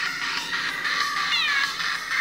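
Techno Kitten Adventure mobile game music plays steadily, with electronic cat meows rising and falling over the beat.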